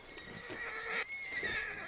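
A horse in Red Dead Redemption 2 neighs with a bright, wavering whinny that rises and falls over nearly two seconds. The call is close and fairly loud, with faint hoof clip-clop underneath and no talking.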